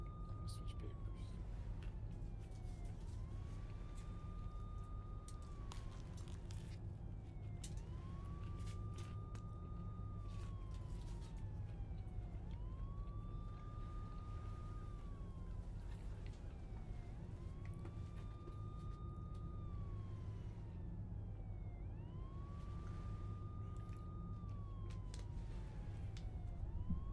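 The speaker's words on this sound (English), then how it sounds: "The police cars just going over" Police car sirens wail in repeated rising and falling sweeps as the vehicles pass overhead, loud and steady over a constant low rumble of traffic for the whole stretch.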